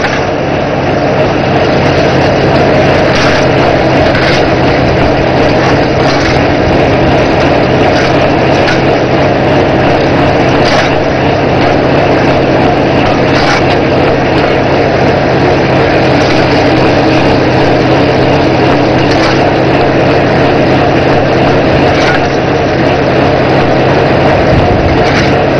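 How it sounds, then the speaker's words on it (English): Continuous heavy engine drone of an auger rig drilling down through aggregate and into natural subgrade, steady and loud throughout with a low mechanical rumble and faint periodic clanks. "we're still into that over here watching the auger operation"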